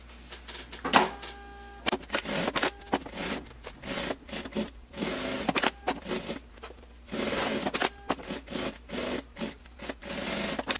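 A sewing machine stitches a fabric bag in short bursts of whirring, stopping and starting repeatedly as the seam is guided around, close and moderately quiet with faint handling noises between runs.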